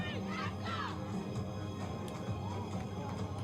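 Home crowd at a Belize vs Anguilla women's football qualifier: a distant, steady murmur of spectators with occasional shouts and whoops, fairly faint throughout.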